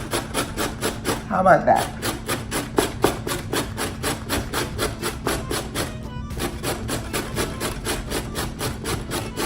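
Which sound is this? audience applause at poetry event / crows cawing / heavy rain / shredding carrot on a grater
shredding carrot on a grater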